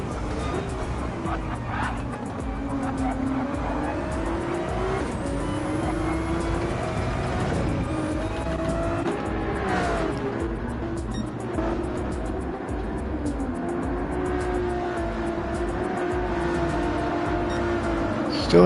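A Ferrari race car driving at Daytona, its engine droning steadily with shifting pitch under continuous commentary and crowd-like background noise.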